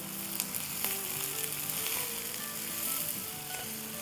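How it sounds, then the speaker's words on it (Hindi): Onions sautéing in a pan for burgers, a loud continuous sizzle with scraping stirs and light clinks throughout, no talk. "चले ये सॉटे हो रही हैं"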